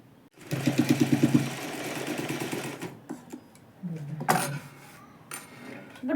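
A sewing machine stitches a baby frock, its needle hammering in a fast, even burst that runs steadily, then stops and restarts in shorter runs, with someone speaking between and over the stitching.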